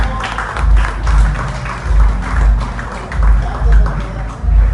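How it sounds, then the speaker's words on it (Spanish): An audience claps after a talk on teaching methods, heard as loud rhythmic bursts of applause with a low thumping pulse, while voices talk over the clapping. "Fuerte el aplauso."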